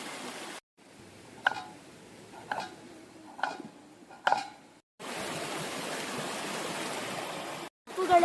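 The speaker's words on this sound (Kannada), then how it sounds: "ಇಲ್ಲಿ ನೋಡಿ ಎಷ್ಟು ಚಂದದ ಹೊಳೆಯ ನೀರು ನೋಡಿ." A stream fed by an overflowing monsoon lake rushes in a steady broadband wash, with a few sharp clicks and ticks first and the water's flow then dominating, fairly faint and without talking.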